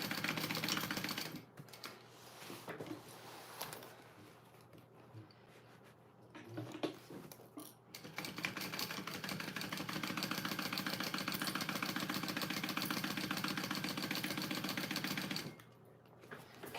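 A sewing machine stitches a bag lining closed, running in a steady, even mechanical drone that pauses briefly before settling into a longer uninterrupted run, with no talking.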